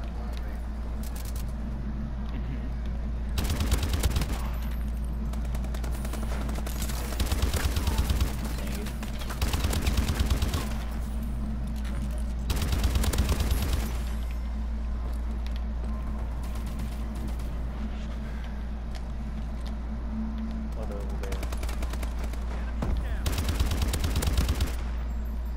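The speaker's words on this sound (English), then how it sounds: "Stop shooting me from behind." Bursts of automatic gunfire from Call of Duty Advanced Warfare erupt repeatedly, loud and close, over a steady low background hum, with a player's voice speaking intermittently between the volleys.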